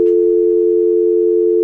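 A phone line gives a steady, loud, unbroken dial tone while a call to a cell phone is placed, holding one pitch throughout.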